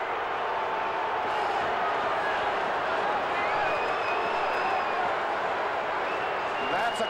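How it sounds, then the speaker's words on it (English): A 1979 NFL game crowd, New York Giants against New Orleans Saints, roaring in a steady, dense wash of cheering and applause from a full stadium, distant and sustained throughout. "Listen to the crowd."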